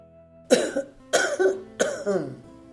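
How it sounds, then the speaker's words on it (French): Three distinct coughs, evenly spaced and close by, each with a short rough tail. "il commença en ces termes, après n'avoir toussé que 3 fois au plus."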